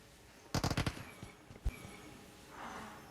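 Automatic gunfire in PUBG Mobile: a fast burst of about five shots, then a single louder crack a second later, standing alone against quiet game ambience with no talk.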